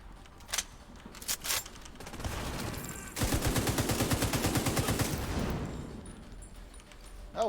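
Rapid automatic gunfire rattles in the Division 2 video game, a sustained burst of evenly spaced loud shots lasting about two seconds, preceded by scattered single reports and followed by quieter ambient game sound.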